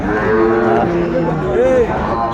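Several cattle, including Sahiwal bulls, low and moo close by over a busy crowd murmur at a livestock market, their calls overlapping in a noisy outdoor setting.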